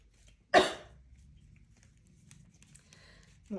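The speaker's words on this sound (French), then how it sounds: "ça doit pas être très agréable de m'entendre tousser" A single sharp cough bursts out close by, followed by quiet room noise and a faint rustle near the end.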